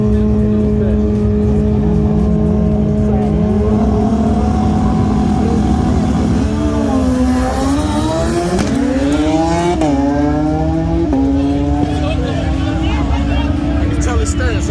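A Kawasaki motorcycle races against a Suzuki Hayabusa. Its engine roars loudly and climbs through sweeping rises in pitch as it accelerates through the gears, with excited spectators talking throughout.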